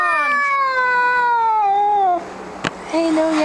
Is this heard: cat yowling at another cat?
yes